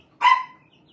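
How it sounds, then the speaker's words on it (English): A dog gives a single short, sharp bark at a moderate distance, clear against an otherwise quiet background. "What were they barking at, Michael?"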